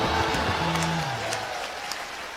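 Studio audience at a comedy show applauding, a steady wash of clapping throughout, moderately loud and slightly distant, with a voice briefly speaking over the start.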